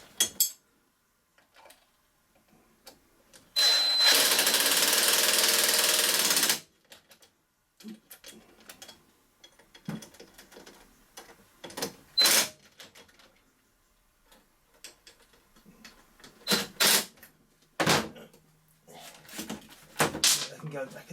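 Sharp metallic clicks and taps ring out while T-socket screws go back into a Toro mower during a drive belt change, scattered and close. One long broadband hiss fills about three seconds early on.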